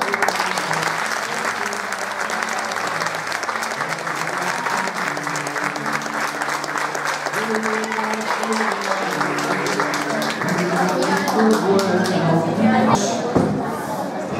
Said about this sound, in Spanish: E aplaudides se vos gustou.